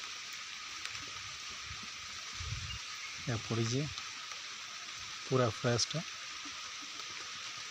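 Rain falls in a forest near Sambalpur, a steady, even hiss that fills the background throughout while someone speaks over it in short bursts.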